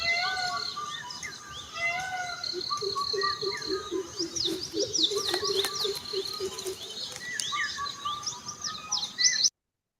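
Dawn chorus of many birds singing and chirping continuously, with the national bird calling among them alongside Indian cuckoo and greater coucal, dense overlapping calls throughout at moderate loudness, cutting off abruptly just before the end.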